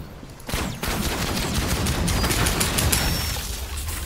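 Sustained gunfire from a shootout in the video game Outcast: A New Beginning, a dense, loud crackling fusillade of rapid shots that swells after a brief quieter start and continues without pause.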